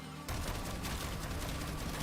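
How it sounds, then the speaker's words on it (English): A big explosion in the video game Warframe bursts in suddenly and stays loud as a dense, rumbling wash of noise, crackling like rapid gunfire. "And a big explosion too."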